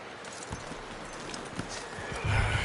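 Horse hooves clip-clop at a walking pace in Red Dead Redemption 2, then a louder neigh rises at the end, set against faint game ambience.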